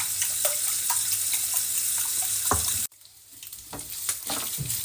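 Bacon frying and being stirred in a pan, a steady crackling sizzle with scraping spoon strokes, briefly cutting out midway then resuming more quietly.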